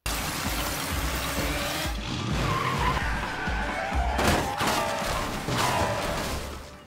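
A car swerves and skids to a halt in an anime scene, a sustained scraping tire skid with rumbling engine noise running loud throughout and a brief harder burst near the end.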